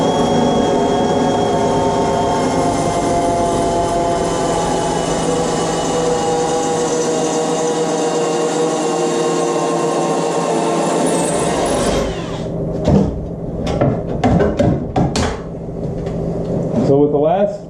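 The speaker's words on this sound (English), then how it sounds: "Let's drill it out." A loud power drill whines steadily for several seconds drilling out a spot weld on a 2012 Jeep Wrangler body panel, then cuts off, followed by a few sharp knocks and clatters of metal handling.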